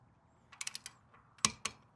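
A torque wrench tightens a pinch bolt on a mountain bike, giving a series of quick close ratcheting clicks, then a short pause and two sharper clicks, all quiet and with no talk.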